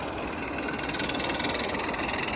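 An RC live steam locomotive climbs a 2% grade, giving a close, rapid rhythmic chuffing with a steady mechanical hum that grows slightly stronger and more regular over a couple of seconds.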